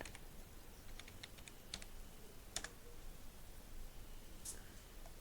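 Computer keyboard typing while entering a search on Google during a data entry task, a few soft scattered keystrokes over steady low background hiss, fairly faint.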